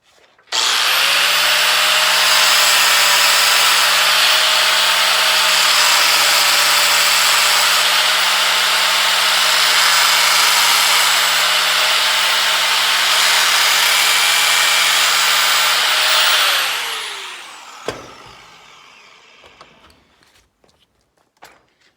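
A cutting wheel slices through metal tubing held with light pressure so the tube won't collapse, giving a loud, steady high-pitched grinding whine for about sixteen seconds before winding down and stopping, followed by a few faint clicks.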